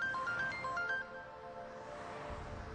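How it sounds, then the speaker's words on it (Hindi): A soft electronic phone ringtone plays a short repeating melody of beeping tones, fairly quiet against a low background hiss. "इस टाइम पे किसका फोन है?"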